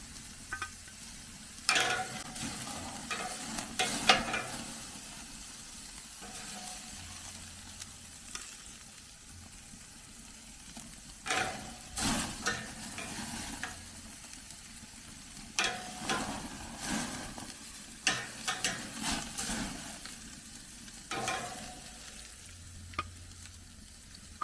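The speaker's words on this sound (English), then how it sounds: "Searing these steaks up" Steaks sear on a backyard offset smoker outdoors, a faint steady sizzle broken by scattered clanks and scraping bursts from handling the meat and grate.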